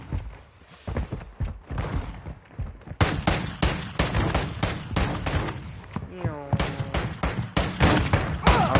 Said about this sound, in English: Hey, who is shooting at me?